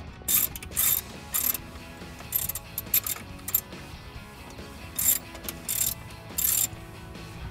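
A hand ratchet loosens the four throttle body bolts on a Toyota Tacoma during a throttle body spacer install, cranking in repeated short bursts of crisp clicking, close and fairly quiet, with no talking.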